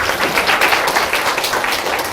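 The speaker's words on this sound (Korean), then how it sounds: "큰 박수 한번 쳐드릴까요?" An audience at a lecture on sustainable society and green citizenship claps together, a loud, dense wash of applause that holds steady and unbroken throughout.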